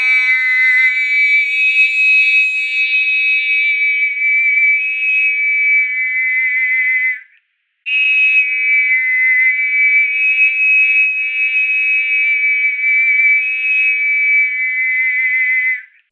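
A high-pitched synthesized sine-like tone plays the melody of Mary Had a Little Lamb as a steady run of sustained notes, loud and alone, with a brief gap partway through.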